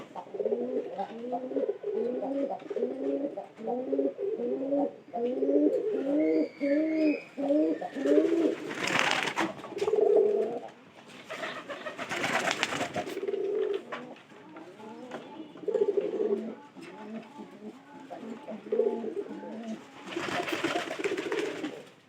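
Pigeons cooing in a loft in a steady, rhythmic run of low, rolling coos, close and clear, with a few louder bursts of rustling or flapping breaking in.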